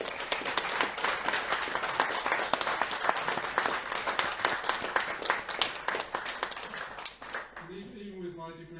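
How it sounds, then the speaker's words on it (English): A humanist society audience gives a lecturer a big round of applause after his talk, with dense, fairly loud clapping that fades out near the end as a voice begins speaking. "will you please give Peter another big round of applause?"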